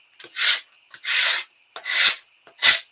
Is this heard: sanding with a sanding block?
yes